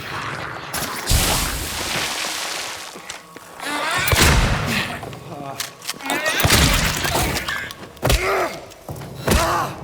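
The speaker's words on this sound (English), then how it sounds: "we're going to bust down this wall" A wall is smashed down in the Silent Hill 2 Remake in a series of loud, close thuds and crashing breaks with debris, spread across the stretch, while someone talks between and over the impacts.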